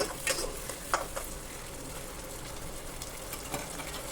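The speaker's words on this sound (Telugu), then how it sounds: "ఇదంతా బాగా ఫ్రై అవ్వాలండి." Spiced curry base with turmeric fries in a pan for goat head curry. A continuous, fairly loud sizzle runs throughout, marked by a few early clinks of stirring, with no voices.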